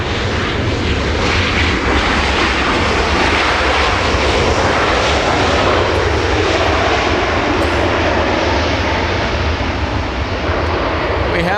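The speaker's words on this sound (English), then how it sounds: "QF55 flying in from Brisbane, Australia. It's an A330 and it will be making a north arrival." A Qantas Airbus A330 jet arriving at Los Angeles International Airport roars loudly and continuously as it passes close overhead, a broad, rumbling engine wash that fills the whole stretch.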